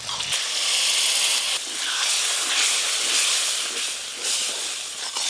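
Sour yogurt paste added to hot oil and fried spices in a pan for prawn bhuna, a loud, continuous hissing sizzle that surges and eases in waves, with no voices.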